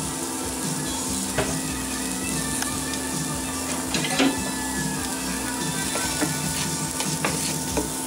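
Onions and celery sizzle steadily in a pot with bacon fat, a continuous close crackle of frying with a few louder pops and stirring scrapes, no talking.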